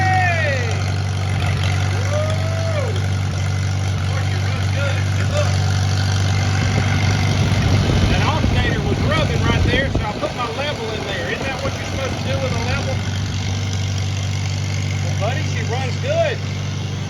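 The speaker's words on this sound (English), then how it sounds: "runs like a brand new tractor" A 1949 Farmall Cub tractor engine idles steadily with a deep, even low rumble throughout, running under ongoing talk and some background chatter nearby.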